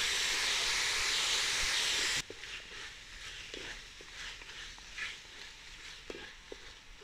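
Tomatoes sizzling in a hot pan for a tomato chicken fry, starting with a loud burst of hissing steam that drops to a quieter steady frying crackle with light stirring clicks.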